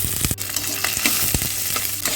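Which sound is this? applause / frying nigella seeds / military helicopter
frying nigella seeds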